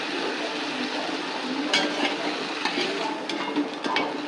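Bitter gourd, boiled and drained, sautéing in a little oil with asafoetida water: a continuous broad sizzle with occasional scraping stirs of a spoon against the pan, close and steady.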